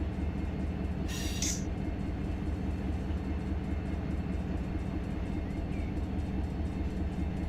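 A freight train locomotive in the Run 8 train simulator game near Waycross rumbles steadily at a constant loud level, with a steady rolling drone and one brief hiss about a second in.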